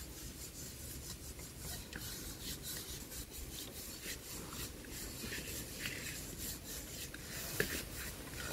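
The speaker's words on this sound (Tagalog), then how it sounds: "Kuskusin mo na yung ano, steel wool." Steel wool scrubs a surface in steady back-and-forth rasping strokes, close and fairly quiet, with one brief knock near the end.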